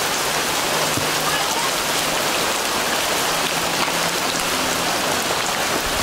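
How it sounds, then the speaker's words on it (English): Rain falling outside in a yard in Haiti, a dense, steady hiss of drops hitting surfaces nearby, continuous and fairly loud, with faint background voices beneath it. "Whew, it's raining outside."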